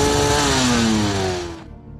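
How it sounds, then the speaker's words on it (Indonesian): A motorcycle engine revs loud and close with a rising whine, then fades sharply as the bike pulls away, leaving a low rumble. "Jack berangkat sendiri menggunakan sebuah motor"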